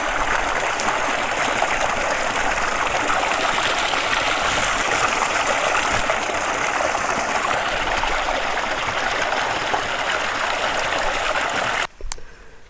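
Water pours steadily into rat burrows in a wheat field in a continuous close gush for several seconds, then cuts off abruptly near the end.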